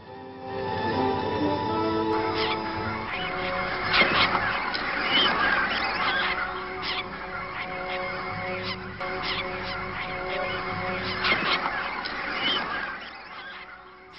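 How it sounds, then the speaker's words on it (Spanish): Calls of neotropic cormorants in a lowland Bolivian setting, harsh croaking and honking notes repeating steadily throughout, fairly loud and layered over a constant background hum. "Patos cuervos."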